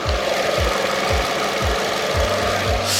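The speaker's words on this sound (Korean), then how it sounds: "영상으로 엔진 소음 한번 담아보도록 하겠습니다" A 2017 petrol car engine idles steadily and close by with the hood open, a smooth continuous hum with a faint regular ticking pulse and no voices.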